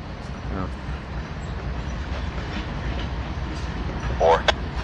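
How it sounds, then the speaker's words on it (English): A Norfolk Southern rail train moves slowly through a rail yard, giving a steady, loud rumble with faint metallic squeals; a person briefly talks near the end. "that rail train"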